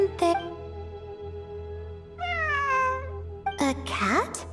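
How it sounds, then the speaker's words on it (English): A cat meows several times in Genshin Impact, the cries clear and fairly close over a steady low background hum, the last one a longer call that slides upward. "It really is a cat."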